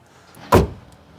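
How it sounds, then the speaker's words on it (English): A single solid thud as a Proton Impian car door shuts, close and fairly loud, with quiet background before and after. "Doors shut nice, don't they?"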